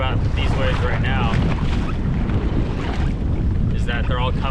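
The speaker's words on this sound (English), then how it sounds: "right now the waves and the wind are working together with the current." Strong wind and choppy waves buffet a small fishing boat on Mission Bay in rough weather, a steady loud rush of wind on the microphone with splashing water, and a person talking through most of it.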